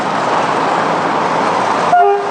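A loud train rumbles steadily past a level crossing in Romania, then a sharp horn toot sounds near the end over the fading noise.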